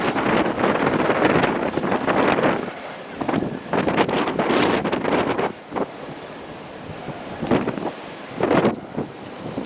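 Strong wind buffets the microphone near a cliff edge in loud, irregular roaring gusts with brief lulls between them, close and rough, and no voices are heard.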